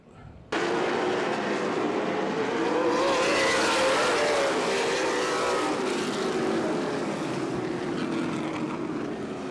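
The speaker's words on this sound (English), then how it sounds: "Here we come one more time. Green flag racing." Race cars in a CRA Super Series race at Anderson Speedway roar past at full throttle on a green flag. The engine noise starts abruptly and stays loud and sustained with a shifting pitch.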